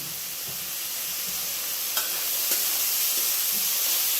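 Raisins sizzling in a little hot oil in a pan, a steady loud fry with faint stirring scrapes and occasional ticks, no talking.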